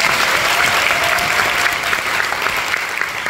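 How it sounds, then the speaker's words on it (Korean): Dense, sustained applause from a theatre audience at the closing-night curtain call of the musical Four Minutes, loud and steady throughout with no break. "의상팀 박수 부탁드립니다."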